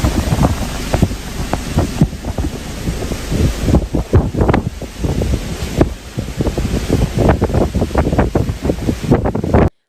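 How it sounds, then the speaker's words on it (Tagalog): Storm Florita lashes northern Luzon's Cordillera region with strong wind gusts and heavy rain: a loud, continuous roar of buffeting wind battering the microphone, broken by rough bursts throughout. "Nakararanas na din ang iba't ibang bayan sa Cordillera Region, Region 1 at Region 2 ng matinding pag-uulan at malakas na bugso ng hangin."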